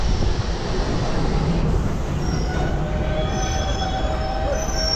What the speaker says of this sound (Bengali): বেলাকোবা স্টেশন ঢুকে গেল ট্রেন